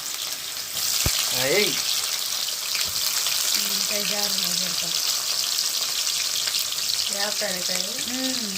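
Onions frying in well-heated oil for chicken dum biryani, a loud, constant close sizzle with intermittent stirring, and short bursts of a voice talking over it.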